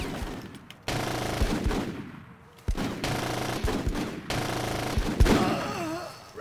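Sustained bursts of automatic gunfire in the Full Spectrum Warrior: Ten Hammer military squad video game, loud and repeated with sharp cracks, brief pauses and a shout-like voice near the end.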